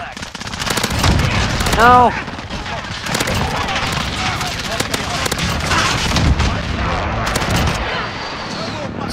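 Loud, rapid game gunfire from a shotgun with incendiary rounds, bursts of shots and booms layered over dense battle noise and crackling effects, with a player talking over the fighting.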